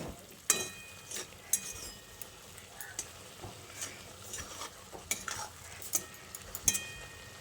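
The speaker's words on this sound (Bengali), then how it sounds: "নুনটা দিয়ে আবারও শাকের সঙ্গে ভালো করে নেড়ে চেড়ে মিশিয়ে নিচ্ছি।" Spinach and potato are stirred with salt in a pan, giving soft, irregular scraping and clinks of a utensil against metal over a faint sizzle, close and quiet with no talking.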